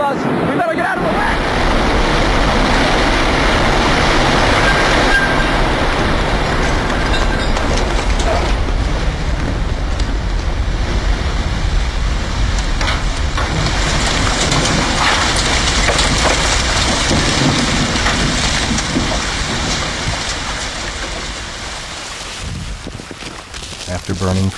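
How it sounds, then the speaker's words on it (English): The South Tower of the World Trade Center collapses in New York on 9/11, a loud, sustained roaring rumble of falling debris that fills about twenty-four seconds before easing slightly at the end. "After burning for 56 minutes, the South Tower collapses in less than 10 seconds."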